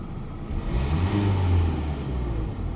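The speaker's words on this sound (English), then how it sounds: "So I give it a rev." Turbocharged car engine revved up once in a steady, loud, close rise and hold of low rumbling drone, with no talking.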